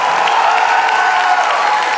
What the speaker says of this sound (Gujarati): Princey, Om, Chirag, Deep, બધા માટે તાળીઓ.